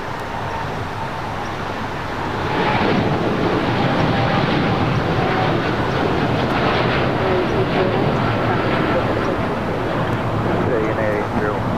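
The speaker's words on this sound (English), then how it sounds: "The United Dreamliner now rolling down 25 right." A United Dreamliner jet rolls down runway 25 right at LAX, a broad roaring engine rumble that swells after two seconds and holds steady and loud, with a faint voice now and then beneath it.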